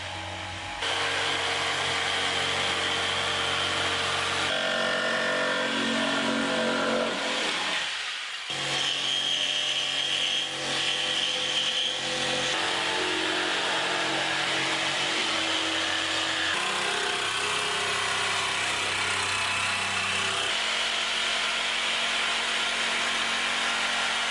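A Bosch GST 140 BCE jigsaw cuts through material, a loud continuous buzzing saw drone with shifts in tone as the cut changes and a brief dip midway.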